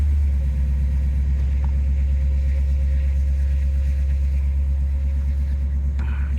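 A 1966 Pontiac GTO's 389 V8 idles indoors in a showroom with a steady, loud, deep rumble. It does not rev or change pitch, and one faint click comes near the end.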